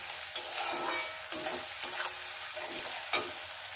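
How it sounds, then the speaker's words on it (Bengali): Onions sizzling in a pan with green chillies, a dense continuous fry punctuated by several sharp scraping stirs of a spatula, close and fairly loud, with no talking. "পেঁয়াজ ভাজার মধ্যে দিয়ে দেবো কাঁচা লঙ্কাটা"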